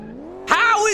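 A Toyota Supra in Car Mechanic Simulator revs and then bursts to full throttle with its wheels spinning, a sudden loud, close roar rising in pitch over a steady idle hum.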